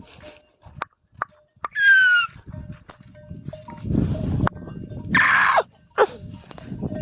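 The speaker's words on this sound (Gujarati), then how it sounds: "એટલે ગાયો બધી આવી ગઈ છે" A herd of cows arrives at a farm, with clanking bells, an animal's call and scattered hooves and shuffling in the open, plus a few short bursts of noise between quieter moments.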